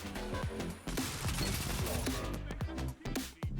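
Hand cannon fire in the Destiny video game, with a Void 3.0 Warlock build: repeated sharp shots and crashing bursts in steady succession, loud and dense throughout, with a voice talking over them.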